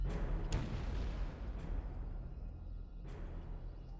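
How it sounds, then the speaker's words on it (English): Sudden deep booms as loud as cannon fire shaking an area near a city, with a sharp blast early and another a few seconds later over a low rumbling background. "Suddenly, a boom as loud as cannon fire shook the area."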